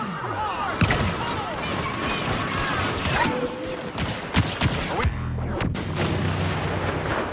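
Dense blaster fire crackles in Star Wars Battlefront during a Heroes vs Villains match with Lando Calrissian. Rapid shots and booming impacts overlap continuously, with sharper, more separated bursts near the end.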